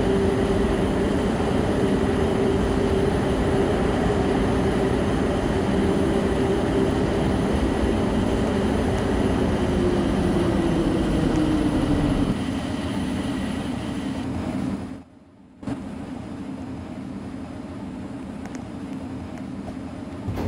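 A Bombardier Innovia APM 300 people mover train hums steadily inside a Roblox game, its motor tone slowly dropping in pitch as it slows, with a brief dropout near the end before the drone resumes.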